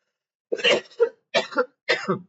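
Three harsh, raspy coughs in a row, close and fairly loud, each separated by a short pause.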